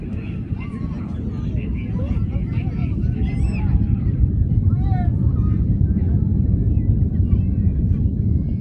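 NASA Antares rocket on the 54-3 mission carrying Cygnus, launching and failing: a loud, continuous low roar that builds and holds, with people talking over the rumble.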